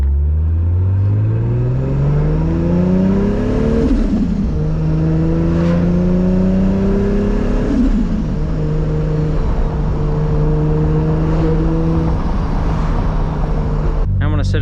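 Turbocharged Toyota Supra engine revving up while driving, its rising whine sweeping through several gear pulls with a steady loud rumble underneath and a brief sharp noise at the end.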